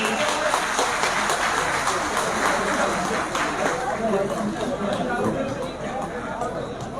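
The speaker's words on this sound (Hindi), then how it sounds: "जोरदार तालियां सभी लोग बजाएंगे" Crowd applause at a BSP political rally in Bilhaur, dense continuous clapping mixed with crowd chatter and a voice over a loudspeaker, loud and sustained throughout.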